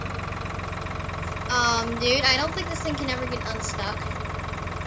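Steady low engine drone of a green tractor idling in Farming Simulator 2013, a continuous game-engine hum running the whole time while two people chat over it.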